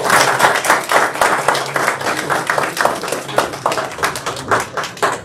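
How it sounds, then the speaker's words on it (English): Applause from a small crowd at a council meeting, loud, close hand clapping with a loose, pulsing rhythm, sustained throughout. "Let's give them a round of applause."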